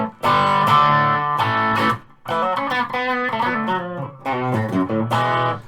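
Ibanez Z electric guitar played through an amp with humbucker and bridge pickups selected, distorted chords strummed in bursts with short pauses, loud and close.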